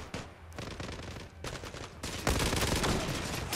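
Rapid automatic gunfire from the online shooter Zula in a capture-the-flag match crackles in dense, overlapping bursts, rather quiet and continuous, with no voices over it.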